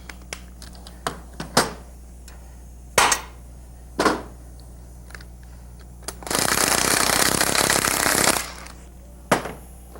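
An electric ratchet loosens bolts on drive train components in short mechanical bursts, a few sharp clicks and knocks followed by one sustained two-second whir, close and fairly loud with no talking.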